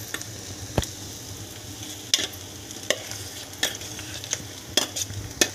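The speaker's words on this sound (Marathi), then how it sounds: "आता हे आपण भेंडी टाकून घ्यायची." Sliced okra is tossed into a hot pan with peanuts, green chili and garlic and stirred, giving a steady low sizzle broken by several sharp scrapes and clinks of a spoon against the pan, close up with no talk.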